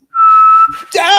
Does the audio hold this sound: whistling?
yes